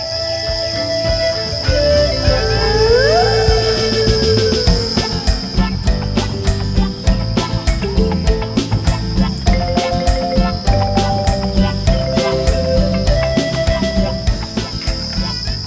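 Farmed crickets chirp in a steady high-pitched trill that runs continuously under a music track with plucked and melodic tones.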